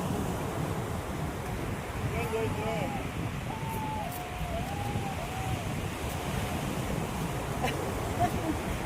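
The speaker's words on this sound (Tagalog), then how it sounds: "Ang lakas ng hangin." Strong wind roars steadily across a microphone at the beach, with a constant broadband rush and surf beneath it, while people talk and call out over it throughout.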